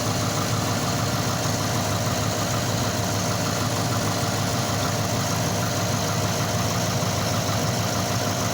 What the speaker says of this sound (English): Okay, with the motor running.